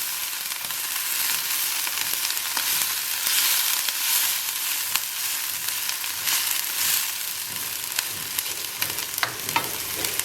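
Chili peppers and spices for Manadonese basil chicken fry in a pan with a loud, continuous hiss, while a utensil stirs and scrapes through them at irregular moments, close up and without voices.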